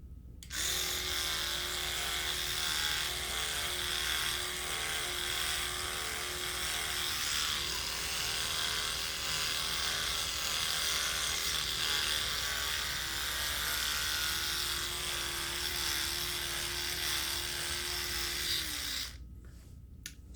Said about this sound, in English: I'm going to brace the toothbrush head with my tongue as I do the wraparound.